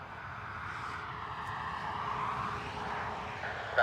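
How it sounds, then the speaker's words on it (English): A Ryanair airliner bound for Birmingham rumbles at Dublin Airport, a steady, moderately distant engine roar that swells slightly midway, with no voices. "Ryanair to Birmingham"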